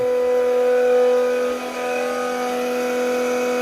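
A Milwaukee transfer pump fills a boiler system, pushing water through the piping and circulator pump with a steady, close tonal whine and hum that holds evenly, dipping briefly midway.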